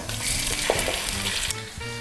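Raw chicken fillet scraped into a hot stir-fry pan sizzles and crackles steadily, a close, continuous frying hiss with faint scraping and utensil knocks.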